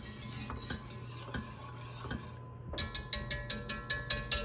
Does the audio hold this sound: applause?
no